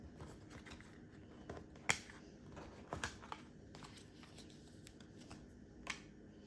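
Tarot cards being shuffled, a soft, steady papery riffling with scattered sharper snaps and flicks, close and quiet with no talking.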